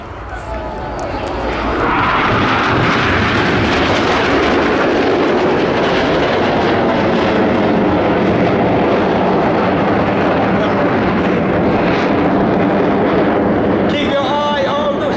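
RAF Red Arrows jets roar loudly and continuously through an airshow display at Ayr Airshow 2023, a broad sustained jet rumble building in the first two seconds and holding steady, with crowd and commentary sounds mixed underneath.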